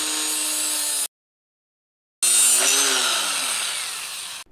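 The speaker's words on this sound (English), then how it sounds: "So I'm trimming off the excess stud here." A power tool cuts off the excess length of an exhaust header stud on a V8 fourth-generation Toyota 4Runner during a Doug Thorley header install, in two loud close bursts separated by about a second of silence, the second pass slowly fading.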